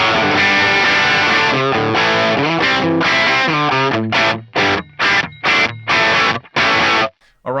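A Les Paul plays through a NUX MG-30 modeler set to the Plexi 100 amp with a custom IR, giving crunchy distorted rock chords that ring out, then turn into choppy stabs separated by sharp silences.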